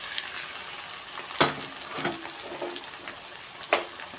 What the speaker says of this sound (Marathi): आता टाकते यात मी टमाटर.